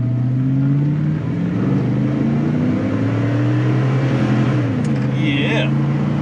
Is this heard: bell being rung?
no